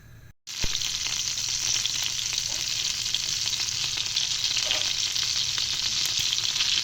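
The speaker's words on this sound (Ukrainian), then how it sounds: "І зараз це все будемо обжарювати." Loud, steady sizzling of chicken frying in hot olive oil in a pan, a dense crackle that runs unbroken after a brief quiet start.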